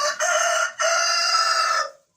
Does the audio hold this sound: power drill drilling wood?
no